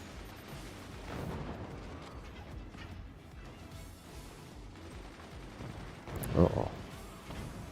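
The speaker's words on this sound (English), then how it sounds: "Oh, yeah, the mortars are breaking things." Mortar shells strike and break fort structures in the game Forts, a steady rumble of distant blasts with a sharper crashing burst near the end, while a voice briefly speaks over it.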